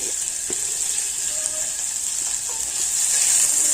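Chopped onions with cumin and five-spice sizzle steadily in hot oil, a loud continuous bright hiss close by with a few faint clinks of stirring and no voices.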